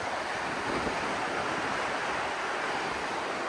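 Water flows strongly past near a Swiss village, a dense, even rushing roar that sits close and loud with some wind buffeting and no voices.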